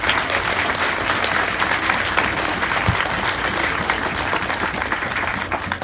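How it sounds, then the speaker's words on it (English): A bookstore audience applauds at a book signing and reading, a dense, steady burst of clapping from many hands that carries on evenly for the full stretch with no voices over it. "let's clap for the bookstore"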